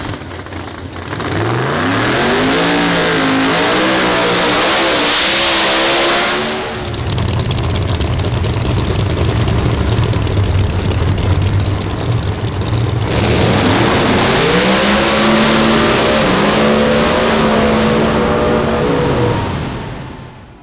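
A big nitrous-fed engine in an Audi drag race car revs and accelerates hard, climbing through gears twice with a loud rumbling lull between runs, alone with no talk.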